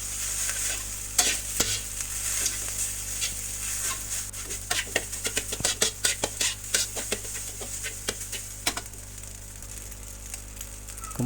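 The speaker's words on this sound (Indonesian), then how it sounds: "Kemudian siapkan nasi putih dan tuangkan. Kemudian diaduk-aduk hingga merata." Cooked white rice is stirred and tossed in a frying pan for village-style nasi goreng, with a steady sizzle beneath rapid, repeated scraping strokes of a spatula that grow busier midway.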